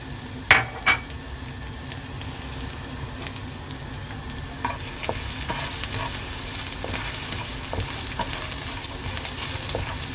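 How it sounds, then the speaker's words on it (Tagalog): Chicken sautéing in hot oil in a pan: a continuous close sizzle with stirring scrapes and a couple of clinks from the utensil against the pan. "Igigisa muna natin guys ang ating chicken."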